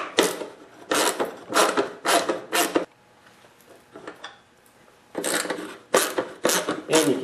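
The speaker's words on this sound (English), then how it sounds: "you want to start by removing the two 3/8 bolts here that are holding the fuel tank on this bracket here" A 3/8 socket wrench backs out the two bolts holding a snowblower's fuel tank to its bracket, giving bursts of quick metallic ratcheting clicks close by, with a quieter pause in the middle.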